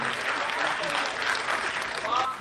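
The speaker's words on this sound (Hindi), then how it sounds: "तालियां बजानी तो जम के बजाओ।" Brief burst of audience clapping at a Hindi comic poetry show, fairly close and lively, with a few voices and shouts rising through it.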